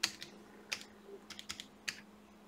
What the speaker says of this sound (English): I hit another key by accident.